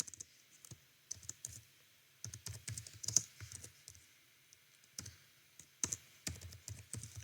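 Typing a message on a computer keyboard: quick bursts of light, close key clicks with short pauses, steady and fairly quiet throughout.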